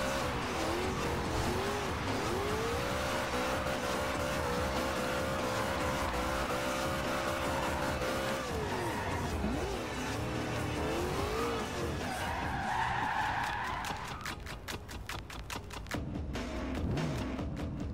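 A Dodge Charger in a Fast and Furious racing video game spins a full 360, with its engine roaring continuously and tires squealing and skidding in long wavering sweeps, ending in a rattling rumble.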